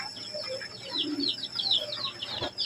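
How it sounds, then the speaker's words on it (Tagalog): Newly hatched kabukid chicks peep beside a DIY incubator: a steady run of high, thin chirps, fairly close and moderately loud, over a low background hum. "At nandun din yung ating mga sisiyo mga kabukid na pinapisa natin noong katapusan ng Marso."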